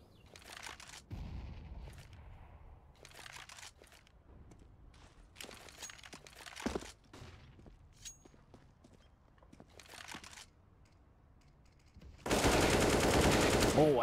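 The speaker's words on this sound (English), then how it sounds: "Oh, and Sovig, 2 quick headshots, lining them up" Gunfire in a Counter-Strike match: scattered single shots and short rapid bursts echo through the first twelve seconds, then a loud, sustained automatic burst closes it out.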